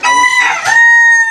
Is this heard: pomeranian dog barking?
no